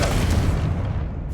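A Confringo fire spell blast in Hogwarts Legacy, a short deep boom with a rumbling, crackling tail that fades out over about a second; no talking.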